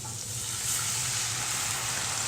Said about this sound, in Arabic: نحمر الثوم عشان ياخد تحميرة